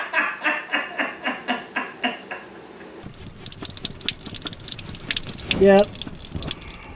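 Water drips steadily from a car radiator drain plug, a quick, even run of close drips for about three seconds, then gives way to a busier wet trickle and background noise, with a brief spoken word near the end.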